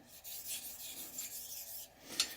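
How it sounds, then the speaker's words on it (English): Knife edge drawn lightly across a 1000 grit whetstone, giving a soft, steady, close rasp of steel on stone that lasts a couple of seconds, with a slightly brighter scrape near the end. "I'm going to drag it lightly to take any false positives to make sure that the apex comes in evenly heel to toe"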